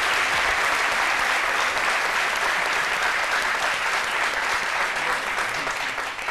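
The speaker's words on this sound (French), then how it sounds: "Merci de l'applaudir très très fort." A studio audience at a French television talk show applauds loudly and continuously as a guest is brought onto the set, a dense wall of clapping that carries on throughout.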